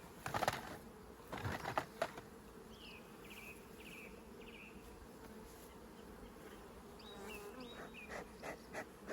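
Honey bees hum steadily around an open hive during a transfer from a nuc, a continuous drone with a few louder knocks and rustles near the start and faint chirps above.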